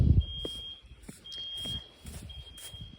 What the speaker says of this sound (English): that alarm's been going off all day long